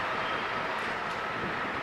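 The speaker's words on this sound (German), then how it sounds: "Eine 232 fährt aus dem Bahnsteig." A class 232 diesel locomotive pulls out from a station platform at Saalfeld, a steady broad engine rumble and rushing noise held at constant loudness without any distinct beats.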